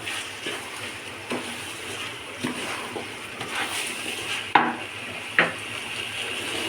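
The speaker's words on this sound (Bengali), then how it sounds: "আমি চালগুলো ভালোভাবে ভেজে নিচ্ছি।" Rice grains for morog polao sizzle softly in a pan while a utensil stirs them, with occasional scrapes and a couple of sharper clinks against the metal.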